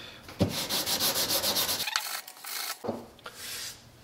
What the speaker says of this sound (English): I'm going to go ahead and sand one more time